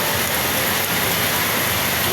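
Heavy rain pours down steadily in Raon under a white sky, a dense, even hiss that fills the whole moment without pause.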